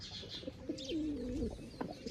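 Pigeons on a rooftop give one soft, rolling coo, close and clear over quiet background noise, with faint chirps around it.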